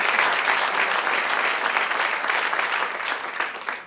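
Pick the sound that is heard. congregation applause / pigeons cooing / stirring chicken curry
congregation applause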